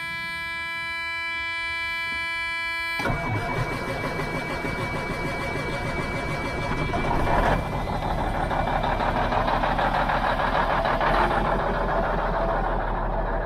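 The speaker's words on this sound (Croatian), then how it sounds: "ja mislim da malo onaj vuče zrak negdje za dizel, zato ovako nekad treba malo duže da upali" A diesel truck engine cranks over and catches after about three seconds, settling into a steady, close, rumbling idle with a whining hum, replacing an earlier tonal electronic beeping.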